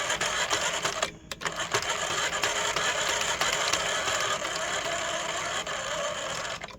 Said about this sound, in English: I'll hand crank it, and then I'll turn the little machine on.